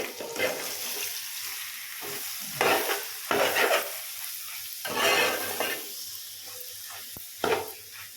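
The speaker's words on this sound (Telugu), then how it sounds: "కోడిగుడ్డు కూర మరొకసారి తిప్పేసుకుందాము" Egg curry sizzling in a pan while a spoon stirs it, with bursts of scraping and hissing every second or two over a steady low fry, close up and without talk.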